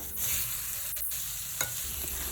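Tawa mutton fry with coriander sizzles loudly and continuously on a hot griddle, with a couple of brief stirring scrapes cutting through the steady hiss.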